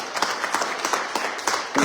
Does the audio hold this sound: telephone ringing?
no